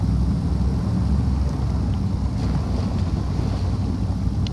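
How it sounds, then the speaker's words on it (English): Off-road vehicle and cargo trailer fording deep water in the SnowRunner video game, with the trailer fully submerged; a steady, loud low rumble of churning water and engine noise runs continuously without talk. "Now we're water fording to the point that we're almost, yeah, so the trailer's completely underwater"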